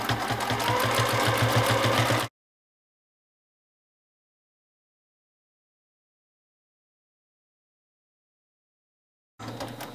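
A sewing machine runs fast during free-motion quilting stippling, a rapid even stitching rattle for about two seconds, then silence, then resuming briefly at the end.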